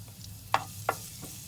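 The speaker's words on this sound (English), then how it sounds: "Now we're going to add in the garlic." Garlic sizzles in olive oil in a pan over medium heat, a soft, steady frying hiss with a few sharp crackles and pops near the start of the clip.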